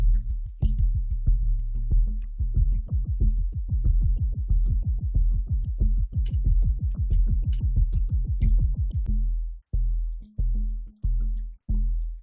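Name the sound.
drum machine groove slowed down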